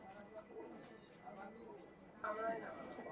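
Royal Teddy pigeons coo softly in a loft, low murmuring calls running under nearby talking voices, with a louder stretch of sound toward the end.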